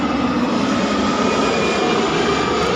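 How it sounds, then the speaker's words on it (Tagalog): A passing airplane roars loud and steady overhead in the early morning hours near a site where containers are being unloaded, a dense continuous engine rumble with no talk over it. "Dumaan na aeroplano"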